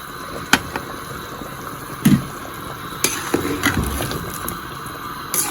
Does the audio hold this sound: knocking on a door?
no